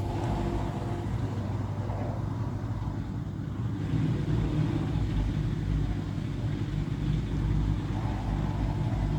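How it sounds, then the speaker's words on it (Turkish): A Vestel BME M201 W dishwasher starts up and runs with a steady low hum and rumble, fairly loud and unbroken throughout. "Evet cihaz çalıştı arkadaşlar."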